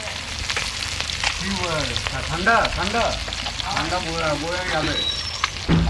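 Live katla fish frying in a pan in a Bengali village kitchen, a dense, loud, close sizzle and crackle running throughout while someone talks over it.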